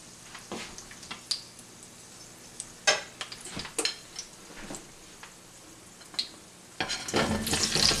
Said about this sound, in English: In the same oil, I'm going to fry the potatoes.